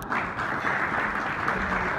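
Audience at a Governor House award ceremony honouring Olympic gold medalist Arshad Nadeem applauding, a steady, even wash of clapping throughout.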